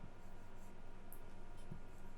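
Numbers are written by hand with a pen or pencil, giving a quiet, close scratching and scribbling, faint against a steady low room hiss, with no talking.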